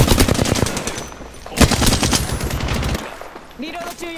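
Loud, rapid bursts of automatic gunfire from a firefight in the Apex Legends video game. The shots rattle close and continuously for about three seconds, then give way to quieter game sounds.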